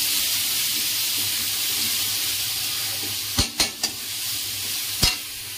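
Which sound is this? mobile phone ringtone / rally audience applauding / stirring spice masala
stirring spice masala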